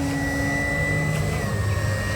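A Hangar 9 Ultra Stick, a 60-inch plug-and-play RC model airplane, comes in to land nose-up with crow flaps set and power held up in a direct crosswind, its motor a steady loud whine under wind rush with no voices.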